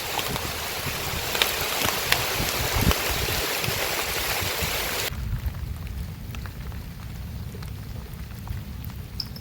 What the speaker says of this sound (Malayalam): നല്ല ഇടിച്ചു കുത്തി മഴ പെയ്യുകയാണ്.